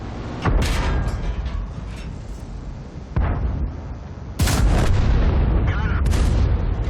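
Heavy tank cannon shots boom out in World of Tanks as a Churchill is targeted, two loud sharp blasts followed by a rumbling battle drone, with engine and ambient battlefield noise throughout.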